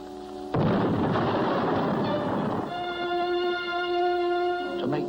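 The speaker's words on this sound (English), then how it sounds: "decides to shoot off this ancient cannon to attract the Black Menace" An ancient cannon fires with a sudden loud blast and rumbling roar that lingers about two seconds, followed by a sustained tonal ringing hum as the boom fades.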